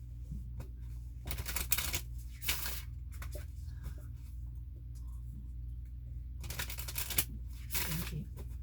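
Several bursts of cards being riffled and shuffled, quick crisp fluttering separated by pauses, with a low steady hum underneath.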